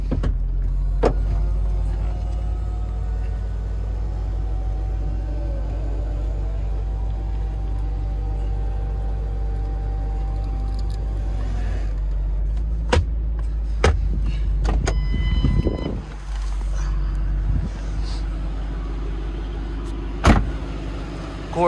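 Power top of a low-mileage Ford Mustang GT convertible lowering, a long steady electric motor whine under a low idle rumble, then a string of mechanical clunks and latch clicks as the top settles, loud and close.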